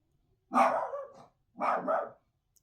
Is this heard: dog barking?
yes